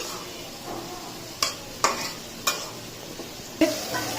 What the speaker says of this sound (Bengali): সেটা দিয়ে ভুনা করে কলিজা ভুনা করছি আজকে